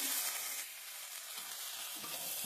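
Spinach fries with onion, garlic and tomato over a medium flame, a continuous soft sizzle with faint stirring. The sound is quiet and steady and eases a little after the first half second.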